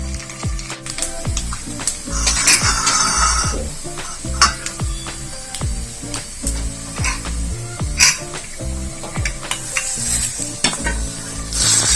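Gongura chicken curry sizzles in a pan as a spoon stirs through the freshly added tempering, giving repeated scraping strokes and clinks over a continuous frying hiss.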